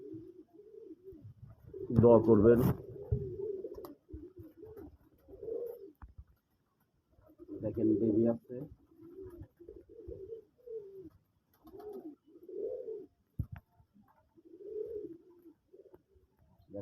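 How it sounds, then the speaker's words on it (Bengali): A pair of black pigeons settled on their eggs, still moulting, coo in soft repeated bursts close by while someone talks quietly between the calls. "দেখেন কালো এক জোড়া কবুতর ডিমে চলে আসছে"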